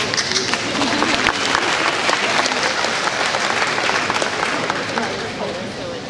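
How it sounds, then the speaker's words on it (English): Dense applause from a luncheon audience for the flower arrangers fills several seconds, loud and steady with some crowd murmur, tapering slightly at the end. "so we'll give them a round of applause."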